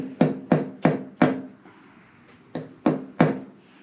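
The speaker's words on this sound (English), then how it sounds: "So now we'll just tap this back into place" Sharp hammer taps on a carburetor part from an M151 jeep, struck with a needle nose hammer and screwdriver punch: four quick close blows, a pause, then three more, ringing briefly with no talk.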